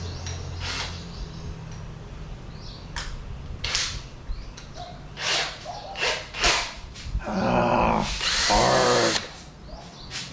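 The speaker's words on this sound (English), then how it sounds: "Change my bit over to this carbide bit." A carbide bit drills into old pot metal during an antique repair, giving several short bursts of grinding and whining that grow louder and longer toward the end, with faint low hum underneath.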